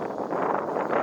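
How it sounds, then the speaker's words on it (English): Steady wind buffeting a microphone outdoors while someone tends a newly set-up plant, a continuous close rumbling roar with no pauses. "It's so windy for some reason."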